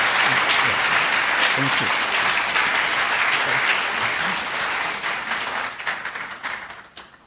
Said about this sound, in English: a massive applause again